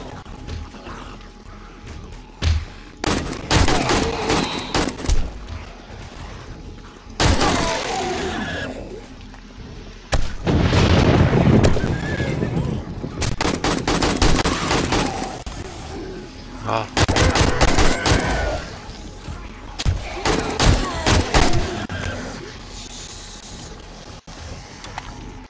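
Repeated bursts of gunfire fill horde night in the 7 Days to Die video game, loud clustered volleys with pauses between, mixed with game noise and a voice talking at times.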